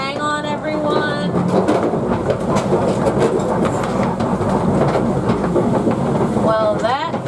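A rickety bridge on the Kilimanjaro Safari ride rattles and creaks as the vehicle crosses. It makes a steady, loud clattering and clacking with scattered squeaks for several seconds.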